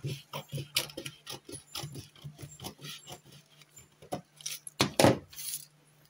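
Scissors cut out a paper pattern piece for straight pants in a quick run of short, crisp snips close by. The snips grow louder and more scattered toward the end.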